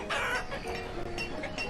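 Chickens in the video game Banished, with short, scratchy clucks and fowl calls popping up in bursts over a steady ambient bed of game sound.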